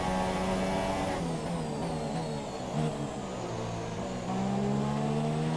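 Mercedes-engined Formula 1 car racing in the F1 2017 video game at China, a steady high-pitched engine scream with shifting harmonics as it holds speed, loud and continuous with no talk.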